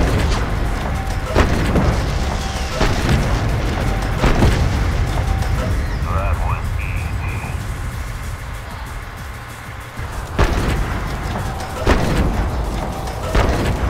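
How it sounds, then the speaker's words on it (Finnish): Napalm fire from a flamethrower tank in the game Renegade X: a continuous loud roaring rush of flame broken by repeated heavy booms and blasts, with no voices. "tämä napalmiheitin tosiaan on melkoinen tuhovoimainen laite tässä pelissä"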